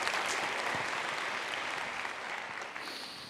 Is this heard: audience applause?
yes